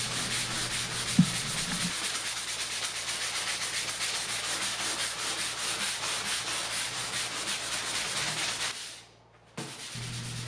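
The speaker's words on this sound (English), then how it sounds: "now it's time to start sanding the whitewash to get the effect we're looking for" Steady, continuous abrasive rubbing of 320 grit sandpaper wrapped on a sanding sponge, worked over a whitewashed wooden dining table, close and even for several seconds before briefly stopping and resuming.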